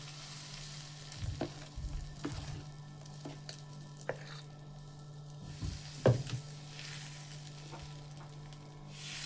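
Dosa batter hits a hot tava with a soft, steady sizzle, joined by a few sharp clinks and taps of a ladle. Closer thuds from handling break in now and then, and no one speaks.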